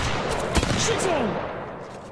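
Rapid gunfire in the mobile game Apex Legends Mobile, a dense run of broadband shots with one sharper crack near the start, heard steadily throughout at moderate loudness with no talking.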